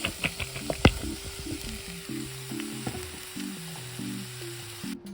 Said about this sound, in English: you should make sure you saute your vegetables in the oil so you can make sure they're not too hard after you cook them